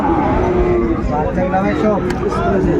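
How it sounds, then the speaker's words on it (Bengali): Sahiwal bull calves at a cattle farm low loudly and close, with overlapping moos filling the whole stretch and some talk underneath. "আচ্ছা শাহাবুর ভাই এই যে সুন্দর সুন্দর গরুগুলো কালেকশন"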